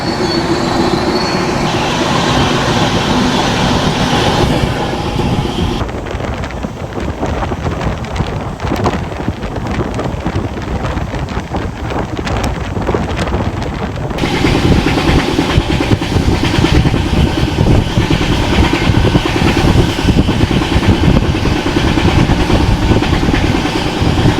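The Swarna Jayanti Express, heard from inside an AC two-tier coach as it runs at reduced speed through winter fog in north India, gives a continuous loud rumble and rattle of wheels on track, briefly muffled midway, with no voices.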